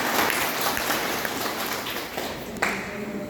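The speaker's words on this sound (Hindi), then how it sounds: "ताली होना चाहिए।" An audience at a DXN product presentation claps, a steady soft patter of applause with a few sharper taps, heard alone at moderate distance.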